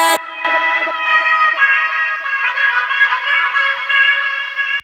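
A sung vocal passes through an echo with Little AlterBoy shifting it upward in pitch, producing bright, thin, layered repeats that blend into a steady shimmering wash for a few seconds before cutting off.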